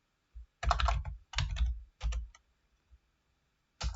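Close, loud typing on a computer keyboard comes in a few quick bursts of clustered key clicks separated by short pauses, with no talking.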